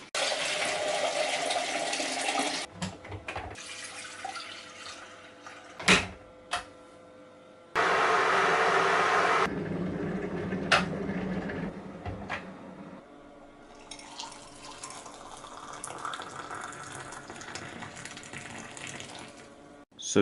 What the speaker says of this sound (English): So got the water boiled and poured it in.